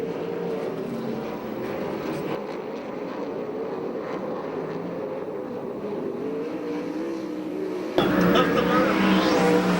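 USAC/CRA sprint cars race around Perris, a loud steady roar of several engines blending at mid distance, with a nearer car swelling and rising in pitch near the end.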